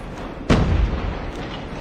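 A single booming shot from a Kilo 141 assault rifle in a mobile shooter video game, a sharp close blast with a heavy low rumble fading over background game noise.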